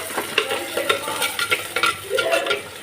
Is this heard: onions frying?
yes